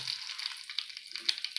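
Mustard seeds, cumin and curry leaves crackle in hot oil for a tempering over a cucumber, onion and tomato koshimbir, with soft, close sizzling and scattered sharp pops and spits.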